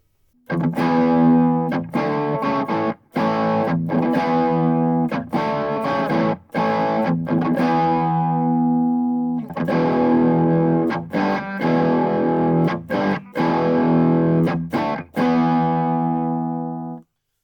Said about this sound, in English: we've got a nice crunchy low gain setting